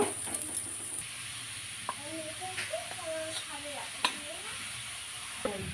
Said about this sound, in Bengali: দুদিকটা আমি ভালো করে ভেজে নেব